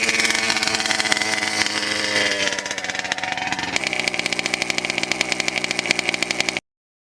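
A small nitro RC car engine runs with a buzzy, rapid, high-pitched rattle that steadies into a fast even pulse. It is loud and close and stops abruptly at the end.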